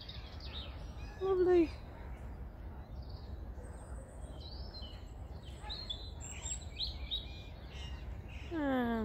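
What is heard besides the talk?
birdsong in park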